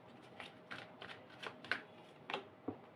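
Tarot cards shuffled and drawn by hand, a string of soft crisp riffles and flicks spaced irregularly, close and quiet with no talk over them.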